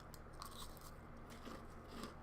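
Close, quiet crunching of someone biting and chewing crunchy mashed-up food, with a few soft crisp bites spread over two seconds and no talking.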